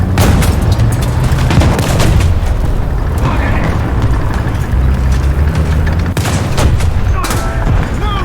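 Panzer III E tank cannon firing in War Thunder, desert tank battle: loud repeated booms and blasts over constant engine rumble, with a few sharp shots standing out near the end.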